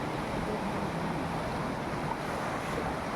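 A waterfall in Assam gives a steady, loud broadband rush of falling and flowing water that fills the whole moment with no breaks, close by and with no voices.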